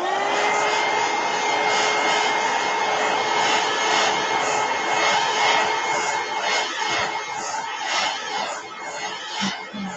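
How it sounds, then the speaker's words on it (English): Two heat guns blow on gesso over a canvas, a loud steady whirring hiss with a constant tonal whine, wavering slightly toward the end where a few soft knocks come through. "Two heat guns definitely help to do the magic."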